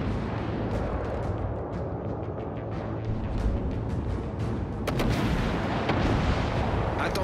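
Naval artillery fire in the video game World of Warships: Legends: a continuous rumble of heavy booming shots and crackling impacts, with sharper blasts near the end, dense and loud throughout.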